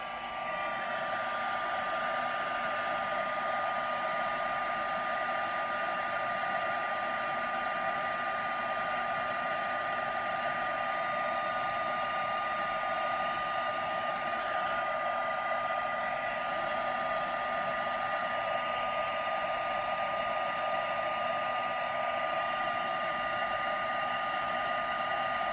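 A heat tool blows steadily for the whole stretch, drying freshly stamped ink on card, a loud, unbroken fan whir with a high whine held at one level, close to the microphone, with no talking over it.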